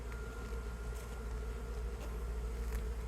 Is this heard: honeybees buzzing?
yes